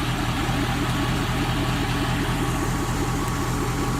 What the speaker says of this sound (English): don't mind my dirty loud truck